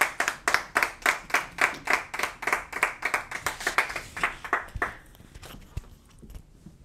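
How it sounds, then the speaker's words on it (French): At a rabbinical semikha diploma ceremony in Kfar Habad, a crowd claps in rhythmic unison, strong regular beats about twice a second that thin out and fade to near silence after several seconds. "on va demander d'applaudir évidemment bien fort"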